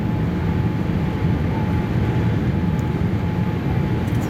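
Steady broadband roar inside the cabin of a Qatar Airways Boeing 787-8 Dreamliner landing at Singapore, loud and continuous with a low rumble and a faint steady tone, no voices.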